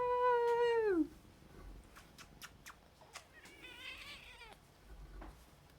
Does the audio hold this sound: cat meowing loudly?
yes